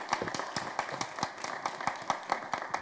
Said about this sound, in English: we owe a round of applause to the organizers who put together a really spectacular symposium